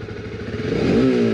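A motorcycle engine revs briefly up close, its throaty idle rising into a louder, higher whine that holds steady at the end.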